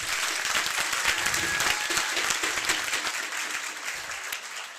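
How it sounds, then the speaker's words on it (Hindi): Loud, dense applause from an audience of students honoring the staff at a coaching event, a steady wash of many hands clapping that stays strong throughout and eases slightly near the end. "सभी के लिए एक बार दिल से जोरदार तालियां हो जाए"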